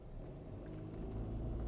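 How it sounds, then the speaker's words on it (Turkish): City bus passing on a street in Schaffhausen, Switzerland: a faint low engine rumble that swells gradually over a couple of seconds, with distant traffic noise behind it. "Ne bu otobüsler böyle ya?"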